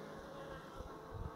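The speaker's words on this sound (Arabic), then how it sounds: "النحل كيرقص بالأجنحة. النحل ما شاء الله، هذا هو السبب نضت الضجة على هذه الخلية هذه." Honeybees at a beehive fan their wings, making a steady, faint, close buzzing hum with no voices.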